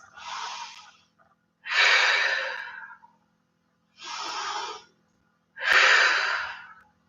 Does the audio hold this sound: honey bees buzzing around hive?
no